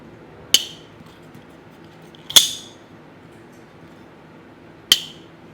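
A Kizer Beyond folding knife clicks sharply three times as the blade action opens and closes, each snap crisp, close and isolated against near silence.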